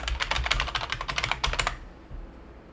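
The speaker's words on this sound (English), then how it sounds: "So we're going to type in administrator." Fast, close typing on a computer keyboard while entering a user name in a Windows permissions dialog, a dense run of key taps that stops abruptly and leaves quiet room tone.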